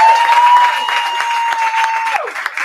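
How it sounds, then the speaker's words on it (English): Audience applause at a Women in Cannabiz panel event, a broad wash of clapping from a crowd with a sustained whistle-like tone riding over it, tapering toward the end. "Let's give a round of applause for Social Equity LA for making this happen again."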